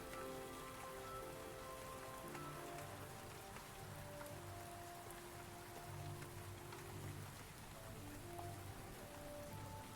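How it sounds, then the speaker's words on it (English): Rain ambience playing during a game development stream: steady, soft patter of rain on a surface, continuous and faint, with a low tonal hum underneath and no voices. "if it's rain, then I can turn off my own rain sounds"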